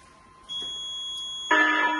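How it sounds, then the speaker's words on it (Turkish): A steady electronic tone starts, then a loud, harsh buzzing fire alarm, triggered by a manual call button during a fire suppression system test, kicks in and keeps sounding continuously. "Önce butondan alarm veriyoruz."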